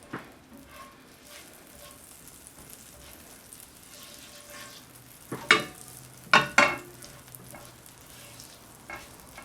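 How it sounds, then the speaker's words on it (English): Rosemary and thyme dropped into olive oil and unsalted butter in a pan, a soft steady sizzle with a few sudden louder crackling bursts, close up and with no talking. "I'm gonna put a little bit of rosemary and thyme in the oil."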